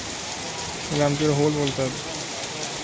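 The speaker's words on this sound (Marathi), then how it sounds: "असं वाटतं खरोखर पाऊस पडतोय." Heavy May rain pours down in a village as a constant hiss of falling water and runoff, with someone speaking briefly over it in the middle.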